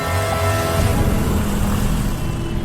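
A motorbike engine drones steadily at close range, a continuous low rumble with no voices, like a rider setting off into traffic.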